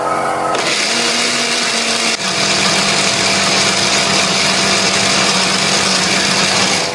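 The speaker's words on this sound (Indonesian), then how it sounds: "bumbu ini akan kita haluskan menggunakan blender" A blender grinds a spice paste of shallot, ginger and turmeric, a loud continuous motor whir that shifts pitch just after starting, then holds steady throughout.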